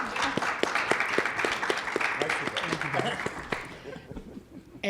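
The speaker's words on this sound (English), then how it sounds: "give a big round of applause to our panelists" An audience at a health conference panel session in Las Vegas gives a round of applause, with distinct close claps over a dense wash that thins and fades out near the end, mixed with some chuckling.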